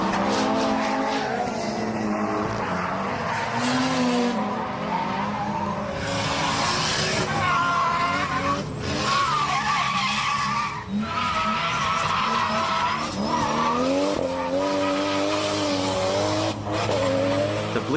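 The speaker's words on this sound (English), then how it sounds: "The next day we saw some D1 cars practicing for the Ebisu event." D1 drift cars practicing at Ebisu circuit, engines screaming at high revs with long tire squeals and skids, several cars loud and continuous throughout, with faint voices now and then.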